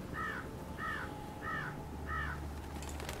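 Ravens caw in The Secret World game, four evenly spaced harsh double calls at moderate distance over a low ambient hum, no talking.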